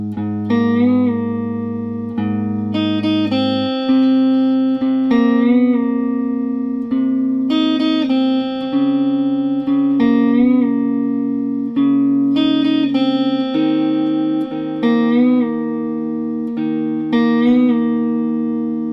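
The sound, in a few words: guitar playing main riff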